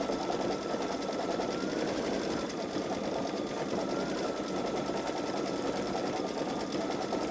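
A Baby Lock Solaris embroidery machine runs continuously at a fast, even pace, its rapid mechanical stitching buzz steady throughout with no pauses.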